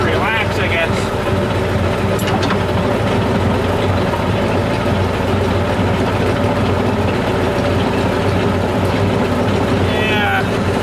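An old Kubota tractor engine idles steadily after being restarted, a loud continuous low rumble that holds an even pitch with no pauses, while people talk over it.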